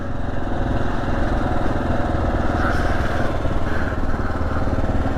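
A Kawasaki KLR 650 adventure motorcycle on Tusk Waypoint tires rides off-road over rough terrain, its engine droning steadily and loud up close, with continuous wind and rumble throughout.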